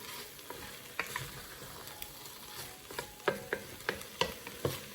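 A spoon scrapes and taps against a pot while chicken noodle soup ingredients sizzle and get stirred together, with a steady frying hiss broken by irregular soft clicks and knocks.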